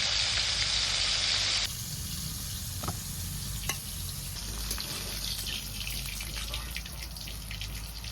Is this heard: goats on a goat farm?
no